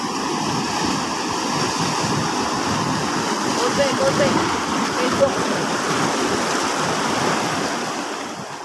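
Ocean waves surging against the base of a sea cliff, a steady broad roar of surf that swells and recedes without pause, close and full for the whole stretch.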